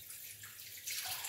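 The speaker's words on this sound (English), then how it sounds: "So I'm going to put some water on that now," Water, one cup, is poured into a blender holding guava pieces, a soft steady splashing that grows brighter and fuller toward the end, with no voices.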